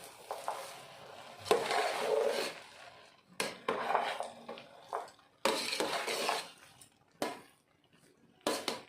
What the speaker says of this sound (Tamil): நல்லா கிளறி விடலாம்.